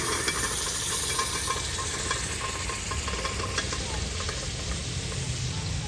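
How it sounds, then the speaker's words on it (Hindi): Cauliflower is tipped into a pan of frying spices, raising a loud, steady sizzle and hiss with stirring scrapes throughout, close and continuous, with no talk over it. "अभी जो है हम गोभी ऐड कर रहे हैं।"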